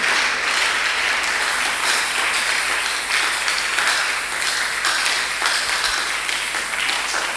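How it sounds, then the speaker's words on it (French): A church congregation applauding and cheering for the Lord, a loud, continuous wash of many hands clapping that holds steady without pause. "Est-ce que nous pouvons acclamer encore, acclamer fortement pour le Seigneur?"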